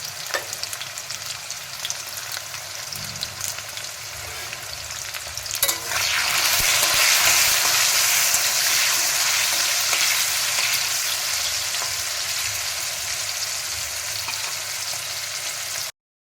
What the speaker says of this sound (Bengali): শুধু নুন দিয়েই আলুটাকে ভাজবো